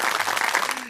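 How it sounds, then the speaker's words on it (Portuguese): Short burst of applause sound effect dropped into a Portuguese-language podcast, dense clapping at steady loudness that cuts off abruptly after under a second. "Aplausos."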